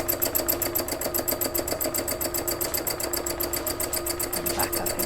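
A sewing machine stitches a sheep-themed spring fabric project in a steady, rapid rhythmic chatter that runs throughout, close and fairly loud, with faint talk in the background.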